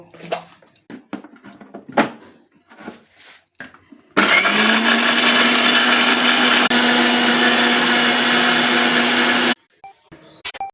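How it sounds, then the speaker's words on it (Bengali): Mixer grinder blending poppy seeds, chopped ginger, chilli and tomato, a loud steady motor whir lasting about five seconds, preceded and followed by clicks and knocks of the jar being handled. "এখানে আছে পোস্ত, আদা কুচি, লঙ্কা কুচি, টমেটো কুচি, এগুলো একসঙ্গে মিক্সিতে বেটে নেব।"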